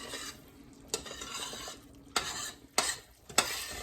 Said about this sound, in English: See when I stir how it leaves, the spoon leaves a path.